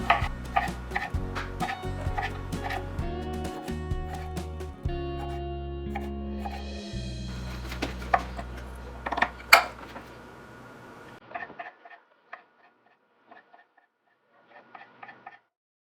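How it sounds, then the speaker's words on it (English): Knife chopping cherry tomatoes into quarters on a cutting board for a seven layer dip, a run of quick, close, crisp cutting taps with background hum early on, then sparser clicks tapering off toward the end. "And I like to cut them into 4s."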